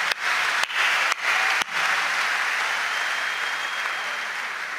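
An audience at a poetry recital (kavi sammelan) applauds loudly and steadily for about five seconds, the dense clapping briefly dipping a few times early on, with no talk over it.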